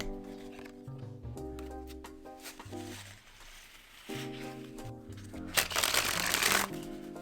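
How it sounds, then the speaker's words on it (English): A deck of SlowHands V2 playing cards being shuffled and sprung between the hands, with crisp, snappy riffling bursts and short flicks, close and clear over faint background music. "The cards handle great. They spring. They're flexible. They're snappy. Listen to that."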